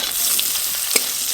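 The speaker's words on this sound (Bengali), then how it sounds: "আলু আর বেগুন ভালো করে ভেজে নেব" Thinly sliced potatoes fry in hot oil for a small fish curry with potato and aubergine, giving a steady broadband sizzle with one brief sharper pop near the end, close and moderately loud, no talk.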